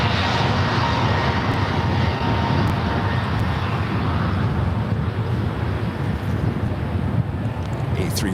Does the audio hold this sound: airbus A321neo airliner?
yes